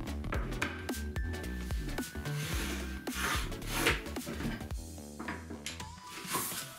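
A pencil marks a line across a 4 mm hardboard panel, a close, dry scratchy rubbing in short strokes over a faint humming background, with no talk.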